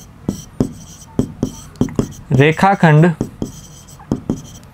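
A pencil scratches on paper during a class-6 geometry lesson in short, evenly spaced strokes, close and crisp, with a brief spoken word cutting in midway.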